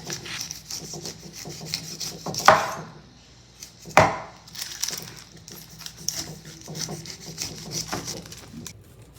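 A knife cuts up an overripe pineapple in rough sawing and crunching strokes, with two sharper chops standing out, close and uneven in rhythm with quieter gaps between.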